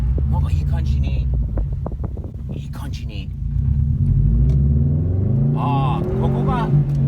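A Subaru STI engine with a Cobb Access Port tune hums and rises in pitch as it revs while driving, a steady close rumble with wind noise and people talking over it.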